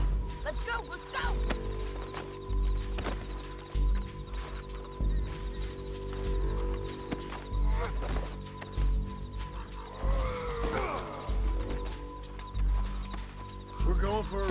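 A horse gallops in Red Dead Redemption 2, rhythmic hoofbeats thudding on and off under overlapping game dialogue and a brief whinny-like cry.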